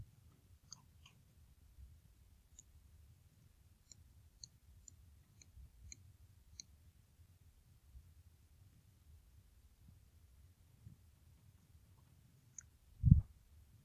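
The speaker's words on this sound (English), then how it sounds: "everybody in the calculator, you're typing negative 15 plus 6" Sparse, faint clicks of fingers pressing calculator keys in a quiet room, a few isolated taps spread over several seconds with a single dull thump near the end.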